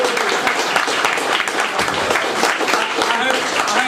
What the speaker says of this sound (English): Round of applause for Craig.